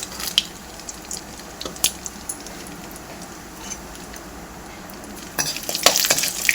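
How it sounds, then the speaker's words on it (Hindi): Cumin seeds and asafoetida sizzling in hot oil in a home kitchen, a steady low crackle with scattered sharp pops that grow busier and louder toward the end. "ये तेल गरम हो गया, इसमें डालेंगे हम जीरा।"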